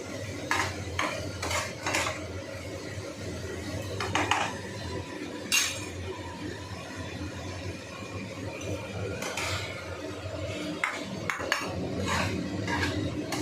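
Cooked papaya is stirred in a pan with a metal utensil, sharp scraping clinks against the pan, some in quick bursts, others spaced apart, over a low steady frying hiss.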